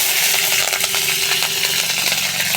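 Whole cumin seeds and green chilies crackle and sizzle in very hot oil, a steady dense frying hiss with small pops running throughout, fairly loud and close, with no talking.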